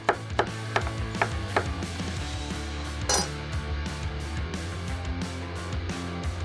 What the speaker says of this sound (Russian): Разрезаем вот так вот морковку вдоль